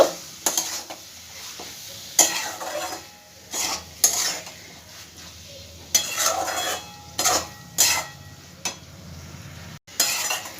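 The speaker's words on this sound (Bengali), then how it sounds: "দিয়ে খুব ভালো করে মশলা আলুর সঙ্গে ছানাটাকে কষিয়ে নেব।" Chhana cottage cheese being stir-fried with potatoes and spices in a pan for chhanar kalia: a spatula repeatedly scrapes and clinks against the pan in short bursts over a soft, steady sizzle.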